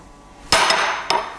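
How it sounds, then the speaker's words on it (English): A blacksmith's hammer strikes a flatter top tool twice, about half a second apart, each a loud, close, ringing metallic clang that decays briefly. "my hammer comes down square on that top tool, no matter what it is"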